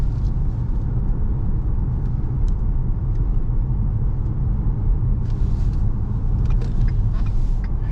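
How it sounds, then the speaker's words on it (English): Ford Explorer police car, a 2013 model, driving through a residential neighborhood, with a steady, loud low engine and road rumble throughout and no rise clear enough to mark hard acceleration. "I'm going to give you an acceleration"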